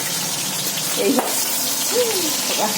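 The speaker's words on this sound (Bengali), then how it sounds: "মাছ ভাজা চলছে" Fish frying in a pan gives a short burst of steady, fairly close sizzling with a few soft spatters and no talking.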